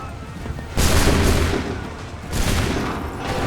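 Musket volley fired on command in Assassin's Creed 3 Remastered, heard as two loud, rolling bursts of massed gunfire a couple of seconds apart, with a rumbling tail between them.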